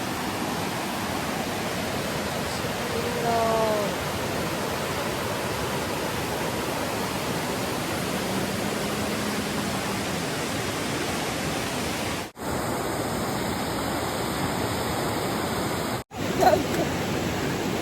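Steady, broad rushing of the Sahasralinga waterfall near Sirsi in monsoon flow, continuous and fairly loud, with two brief cuts near the end.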